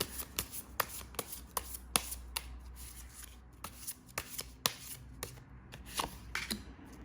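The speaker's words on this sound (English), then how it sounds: "So let's draw some more cards for pile" Tarot cards are shuffled and drawn, giving soft, close riffling and sharp card slaps in an uneven rhythm, quiet and with no talking.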